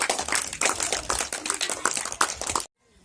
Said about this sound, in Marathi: सगळ्यांनी सर्वांसाठी एकदा जोरदार टाळ्या वाजवायच्या. आपल्या आधीनं हे आसन शिकवलं म्हणून आधीसाठी जोरात टाळ्या.